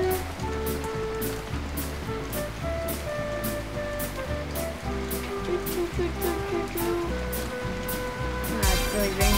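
Steady video game rain hisses in Loco Mania beneath looping, tonal in-game music, a constant wash of falling water with a voice speaking briefly over it.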